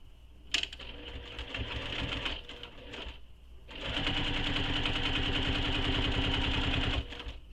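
A sewing machine stitches around a crossbody bag's zipper opening, running in a fast, even mechanical chatter for a few seconds, pausing briefly, then resuming a longer steady run before stopping; close and moderately quiet.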